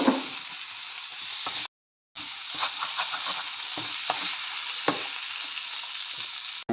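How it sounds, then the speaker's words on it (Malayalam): Chopped tomatoes are stirred in a frying pan for Kerala pepper chicken curry: a continuous close sizzle broken by repeated spatula scrapes and taps, with a short total dropout partway through. "എന്നിട്ട് നന്നായിട്ട് ഇളക്കി ഇളക്കി കൊടുക്കണം"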